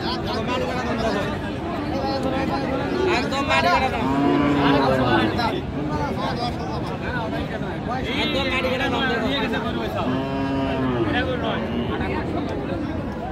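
Cattle moo repeatedly over a steady background of crowd chatter and voices at a busy outdoor cattle market in Aftabganj, with several long lowing calls.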